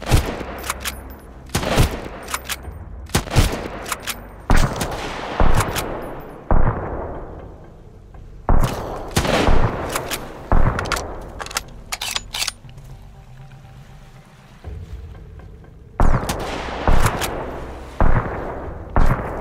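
Enemy gunfire in the survival game Sunkenland: loud, close bursts of shots in irregular volleys, some single cracks and some rapid runs, separated by short pauses, with no one speaking.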